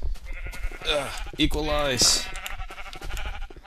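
Sheep in the Minecraft video game bleat several times in quick wavering cries, close and clear, while a person talks over and between them.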